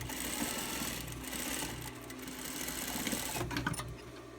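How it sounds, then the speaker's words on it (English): Sewing machine stitching two fabric panels together, a continuous close whirring hum of steady needle strokes with slight speed changes and no talk. "you sew these two pieces together"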